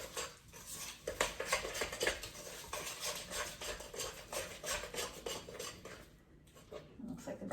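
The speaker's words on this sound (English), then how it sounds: "Okay, next, you mix it all up." A spoon stirs and scrapes through peanut butter cookie dough in a bowl, a continuous close rhythm of clinks and scraping strokes that eases briefly toward the end.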